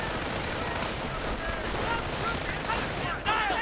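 Sniper rifle and other gunfire crackle faintly in a WWII-style real-time strategy battle, scattered shots under a dense layer of background battle noise.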